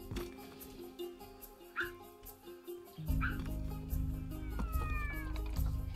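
Ring-tailed lemurs in the Planet Zoo video game give cat-like meowing wails, several short rising calls over a low hum that swells louder partway through.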